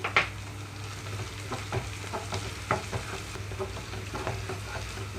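Ginger-garlic paste for a Tamil Nadu style potato fry sizzling in a pan over medium flame, a steady low fry with scattered stirring scrapes and pops close by.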